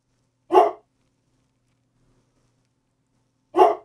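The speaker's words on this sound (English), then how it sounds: "Dog." Two single sharp dog barks, about three seconds apart, each loud and close with silence in between.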